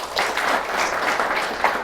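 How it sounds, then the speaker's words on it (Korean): Brief, steady applause from an audience of agency officials at a lecture, dense and even clapping heard alone for about two seconds. "박수 소리 역시 묵직합니다"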